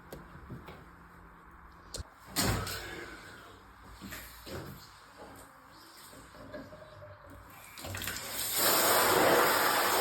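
Tap water runs intermittently while a jacket is washed, with splashing bursts and handling noises, the flow growing louder and steadier toward the end.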